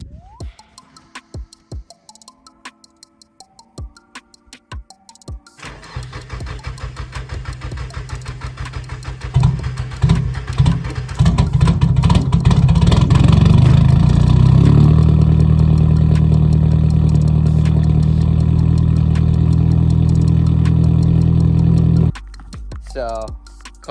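A freshly rebuilt turbocharged Nissan SR20 engine cranks over with a few ticking clicks, then fires and settles into a loud, steady, rough idle that carries close and continuous until it cuts off near the end.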